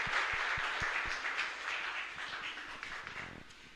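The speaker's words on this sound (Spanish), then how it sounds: "Fuerte aplauso entonces para nuestra comunidad." A church congregation applauds during mass, producing a faint, distant wash of clapping that carries on steadily and then thins out, with a few low thumps early on.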